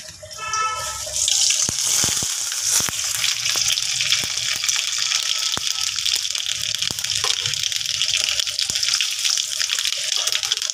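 Dried red chillies and mustard seeds hit hot oil as a tempering for sour dal, bursting into a loud, steady, close sizzle after a brief quieter start, with scattered sharp pops throughout.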